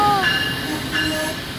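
A train pulling into a station on a trip from Block Island to New York, with high wheel squeals and a steady rail rumble running nearly alone throughout, close and moderately loud.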